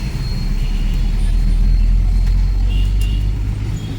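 Dense road traffic on the way to the Besant Nagar temple in Chennai, with a loud, constant rumble of cars and buses close by and a person talking over it.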